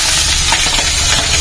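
Pabda fish, rubbed with salt and turmeric, sizzles in hot mustard oil with a loud, dense, unbroken hiss and faint crackles, heard up close.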